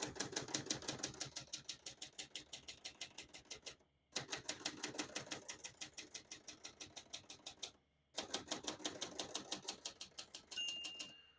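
Rapid, steady keystrokes on a 1967 Hermes 3000 vintage portable typewriter, clacking in three runs split by short pauses, with a faint bell-like ring near the end; close and clear, no talking.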